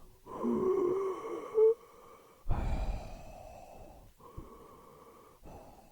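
A voice imitates loud mouth breathing: a long raspy exhale, a short sharp intake, then further heavy wheezing breaths, near and loud, with brief pauses between them.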